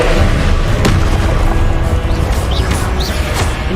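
Confringo blast spell in Hogwarts Legacy going off in a fight, loud booming impacts and crashing bursts over dense combat noise, with a few sharp hits standing out.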